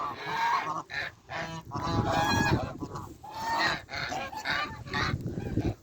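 Several geese honk loudly and repeatedly up close, a busy overlapping chorus of nasal calls.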